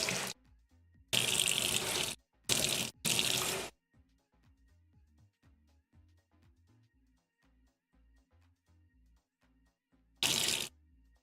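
Hot water from a kitchen tap gushing into a sink in several separate bursts, loud and close, with quiet clinks and handling sounds between the runs.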